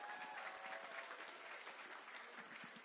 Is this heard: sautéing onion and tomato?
no